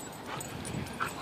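A dog at a park whimpers and yips in a short, close, whiny burst over steady outdoor background noise.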